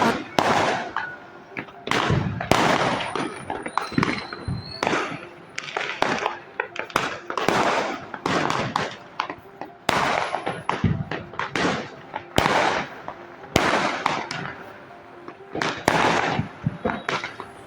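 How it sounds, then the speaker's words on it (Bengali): Dense New Year fireworks and firecrackers bursting over a city, heard from a rooftop: continuous rapid bangs and crackles, loud and close with overlapping distant pops, no talking. "প্রচণ্ড পরিমাণে ফটকাও ফাটছে"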